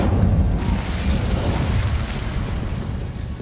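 Incendio fire spell in Hogwarts Legacy, a loud whooshing burst of flame that roars steadily for a few seconds with a low rumbling body.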